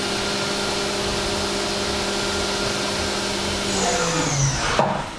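Haas VF2SS CNC mill spinning at 12,000 RPM while surfacing a knife handle, a steady high whine with a hum beneath, shifting and dropping away near the end.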